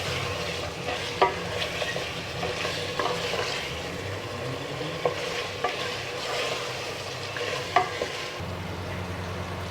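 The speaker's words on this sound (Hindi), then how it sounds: "अब हमने इसको अच्छी तरह से तकरीबन 10 मिनट तक इस मसाले में भूनना है" Chicken sautés in masala in a pan, giving a steady, close sizzle and frying hiss, with occasional scraping stirs and clinks over about ten seconds, no voices.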